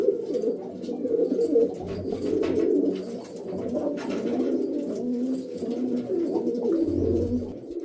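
A male and female pigeon pair coo together at close range, their low, rolling calls continuous and overlapping throughout with no talk.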